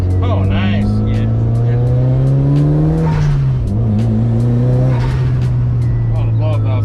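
Tuned 400 WHP Mitsubishi Evo with a twin-disc clutch accelerating hard from inside the cabin, engine note climbing through gears with a brief shift dip, blow-off valve hisses between, while people talk over it.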